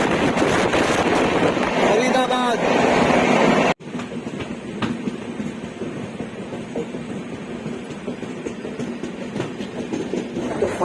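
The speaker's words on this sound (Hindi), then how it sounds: "ट्रेन ने हमारी रफ्तार पकड़ ली" A passenger train running at speed on the line from Delhi toward Agra, a steady loud rumble of wheels and carriage noise with faint rhythmic clatter, which cuts off sharply and continues as a lower, steadier interior rumble.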